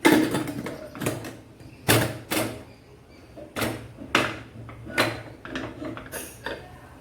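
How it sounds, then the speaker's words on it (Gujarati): A pressure cooker lid is fitted and locked shut over a Kathiyawadi stuffed brinjal and potato curry, giving a series of close metallic clanks and scrapes spaced irregularly, some sharper than others. "કુકર બંધ કરી દઈશું."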